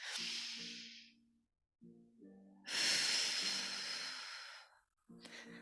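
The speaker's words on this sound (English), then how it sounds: "focus on your breathing in through the nose, getting the body used to that way of breath, exhaling through the mouth" Slow guided breathing during a wall Pilates session: long airy breaths drawn in through the nose and pushed out through the mouth, two drawn-out hissing cycles close and fairly loud, with a soft backing tone in the quiet gaps.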